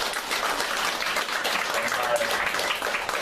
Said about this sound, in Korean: 한번 고맙다고 박수를 한번